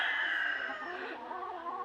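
A backyard rooster calls once, close and fairly loud, in a short drawn-out cry that tapers off, with no talking over it.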